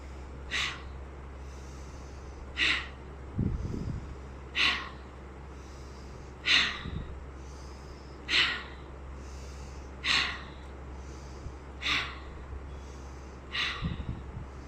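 Rhythmic breathing during yoga shoulder shrugs, with about eight short, close breaths spaced roughly two seconds apart over a faint low hum and a few soft thumps.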